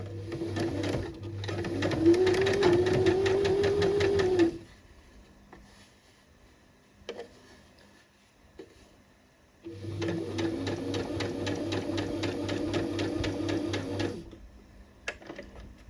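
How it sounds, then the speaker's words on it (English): A sewing machine stitches around the small side vent of a cami top in two steady runs of rapid needle chatter, each about four seconds long, separated by a quiet pause with a few faint clicks. "sewing the little side vent. It's just going to sew around it."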